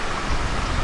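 Waves rolling in at Aliya Beach in Jaffa, a steady broadband wash of surf heard from nearby, continuous and fairly loud with no talking over it.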